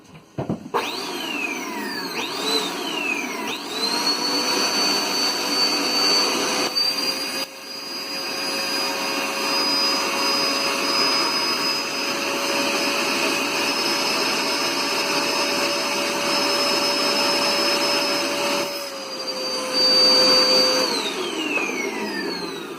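A vacuum cleaner sucking air from a vacuum seal storage bag roars steadily for a long stretch, its high whine rising as it starts and dropping away as it winds down, loud and close.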